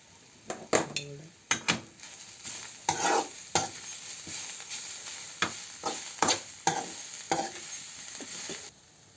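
A spoon scrapes and knocks against a pan in repeated strokes over a soft, constant sizzle of grated coconut, green chilies and garlic frying for a Kerala chaya mansa leaf stir-fry.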